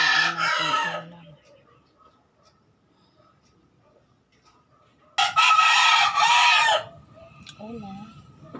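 A nearby rooster crows loudly twice in an outdoor cooking setting, each call a strained, drawn-out cock-a-doodle-doo separated by a long quiet gap, with faint clucking and soft background sounds after the second crow.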